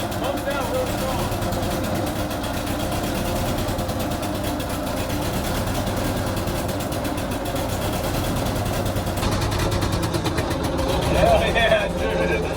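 45-year-old Ford F-600 dump truck engine idling, a steady low rumbling drone throughout, close and moderately loud, with voices talking over it.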